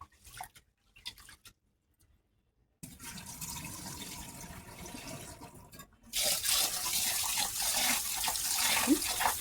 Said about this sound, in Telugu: దీన్ని కడిగి శుభ్రంగా 2 సార్లు కడిగి వాటర్ పోసుకొని నానబెట్టుకోవాలి